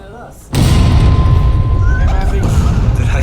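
Video game cannons fire in a loud, sustained barrage of booms and bursts with a rumbling low end, while players talk over the din.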